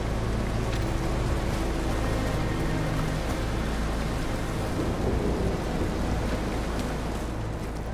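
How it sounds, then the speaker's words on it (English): Thunder and rain in The Caribou Trail video game, a loud, continuous wash of heavy rainfall with low rumbling thunder rolling underneath throughout. "Rain's got to stop someday."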